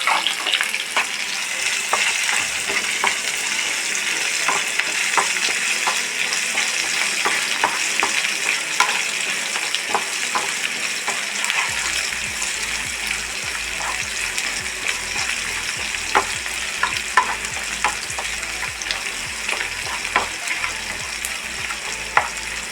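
Garlic with salt sautéing in a pan, a continuous close sizzle punctuated by repeated scraping stir strokes throughout, with no speech over it.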